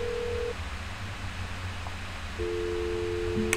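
A phone ringing out unanswered in the video game That's Not My Neighbor: steady electronic ringback tones, one near the start and another longer one later, sound over a low background hum with no voices.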